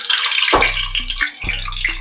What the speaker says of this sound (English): We're gonna drop our eggs in.